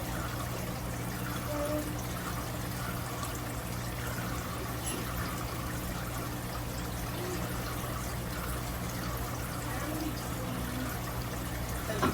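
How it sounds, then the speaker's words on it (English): Liquid mixture for pumpkin crumble biscuits is poured into a bowl of dry mix with grated butter, giving a steady soft pouring and trickling sound for about twelve seconds over a constant low background hum. "Now we're pouring this into our dry mix."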